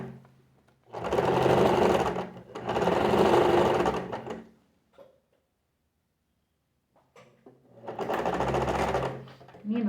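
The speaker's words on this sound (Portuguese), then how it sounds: "abaixo a minha agulha, levanto a minha sapatilha, ando com o meu cursor e abaixo novamente a sapatilha e continuo costurando" Domestic sewing machine stitching fabric scraps for a small patchwork zip pouch, running in three loud bursts of rapid whirring with a long quiet gap between the second and third.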